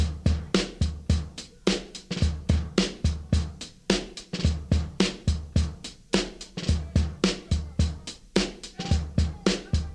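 A sampled soul-funk record, Trump by Otis and Carla, plays as a steady, punchy drum-heavy groove with regular thumping beats and bright hits. It is loud and runs throughout with no talking.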